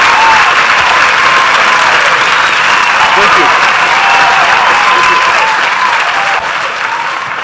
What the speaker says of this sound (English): We officially launch it, so you just clap.